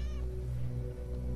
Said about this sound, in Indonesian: Kucing. Kirain apaan.